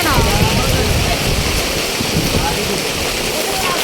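Strong wind and heavy rain roar outside, making a loud, dense, unbroken wash of noise with rough gusty buffeting, and no talking stands out.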